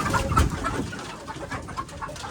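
Frightened hens clucking and murmuring near a nest where eggs are being checked, a low, restless stream of bird calls close by with no talk over it.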